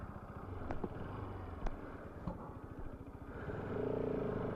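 A motorcycle engine idles and chugs faintly at a distance, with a few sharp clicks and clatter over the low rumble, rising slightly at the end.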